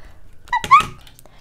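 During Lego Friends toy play, a dog gives a couple of brief, high whimpering yelps close up, with quiet pauses around them.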